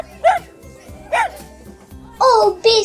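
A cartoon dog in an animated read-aloud storybook barks and yips, four short separate barks spaced out over a quiet background, the last two close together.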